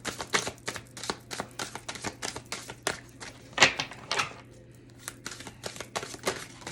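Long tarot cards being shuffled by hand, rapid crisp flicking and riffling clicks in uneven bursts close to the listener, with one sharper snap midway and no talking.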